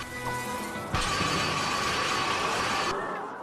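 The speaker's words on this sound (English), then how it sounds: "Grind rails!" A character grinds along rails in the video game Ratchet and Clank Future: Quest for Booty, a loud sustained metallic scraping hiss that starts abruptly and cuts off after about two seconds over game ambience.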